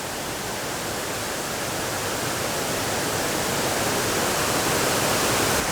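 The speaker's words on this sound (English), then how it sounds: "It's a nice waterfall." A waterfall in Ithaca, New York roars as a steady, dense broadband rush, constant and fairly loud throughout with no voices.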